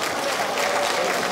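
Audience applause welcoming a contestant onto the stage at a youth song festival during the Gangneung Danoje festival; steady, dense clapping from a crowd, continuous and fairly loud throughout, with no speech.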